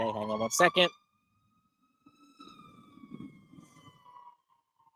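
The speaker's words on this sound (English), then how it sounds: "That's the ambulance." A faint siren wails steadily in the distance after a brief spoken remark, its high tone drifting slightly lower as it passes.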